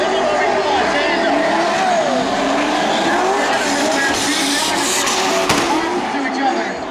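Two cars tandem drifting through a corner at a drift event, with loud sustained tire squeal and engines revving, the squeal rising and falling; commentary continues over it.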